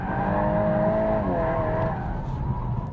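A Volkswagen Golf R takes a corner fast, its engine droning loud and steady from inside the cabin while the pitch sweeps down as the car settles through the bend.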